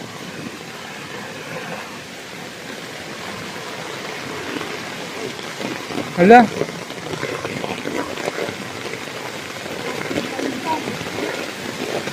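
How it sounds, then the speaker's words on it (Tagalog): Heavy rain hisses steadily throughout, growing stronger, with a brief spoken exclamation partway through. "lumakas yung ulan"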